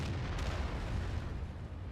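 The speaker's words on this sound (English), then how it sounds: "And artillery is still shooting for us" Artillery shells bursting in a World of Tanks battle, a faint, continuous low rumble of explosions heard from a distance, with no distinct individual blasts.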